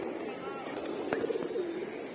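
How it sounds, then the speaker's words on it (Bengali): Pigeons released from a loft coo softly and repeatedly in the open air, low throaty calls over a faint background with a few brief higher chirps, moderately close. "4 দিন পরে আবার কবুতরগুলো ছাড়লাম"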